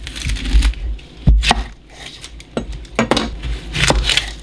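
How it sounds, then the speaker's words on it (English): A knife cuts a red onion in half on a cutting board, giving a few close, sharp thuds and knocks with quiet pauses between them and no talking. "I'm gonna start by just cutting a red onion in half"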